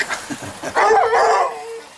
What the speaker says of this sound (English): Oh, the bark.